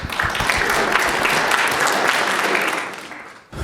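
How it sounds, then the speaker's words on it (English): Conference audience at an HOA educational event gives a round of applause, dense clapping that stays full and steady before tapering off near the end. "round of applause for those"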